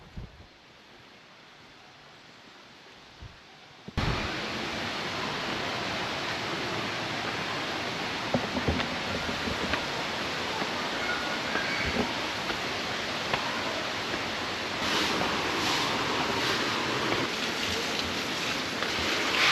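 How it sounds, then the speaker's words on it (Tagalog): Rushing river water near Alitap Falls in Mauban, Quezon: a quieter opening gives way after about four seconds to a loud, steady broadband roar that continues unbroken, with no voices. "Malapit na tayo sa mismong falls."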